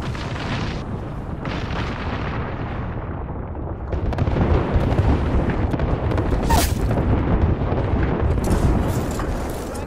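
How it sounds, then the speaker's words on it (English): Artillery strike pounding the ground in Apex Legends, a dense roar of overlapping explosions and rumbling booms that grows heavier partway through, with a sharp bright burst near the middle and constant debris-like crackle. "Firing for effect."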